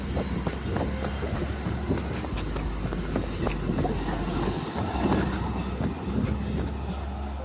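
A train passing close by on the tracks, with a loud, steady rumble and rhythmic clatter of wheels filling the whole stretch, no one speaking over it.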